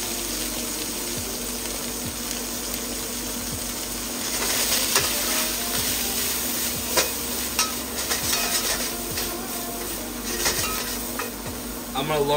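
Broccoli stir-frying in a hot wok, a steady close sizzle broken up by scraping stirs and occasional clacks, with a faint watery hiss running underneath.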